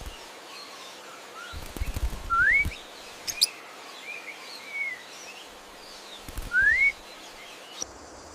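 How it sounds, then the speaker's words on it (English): Lovebirds, small African parrots, give sharp rising chirps and tweets over a quiet background, with a few louder bursts of calls coming in clusters at close range. "Meet the adorable lovebirds and the tiny parrots full of love."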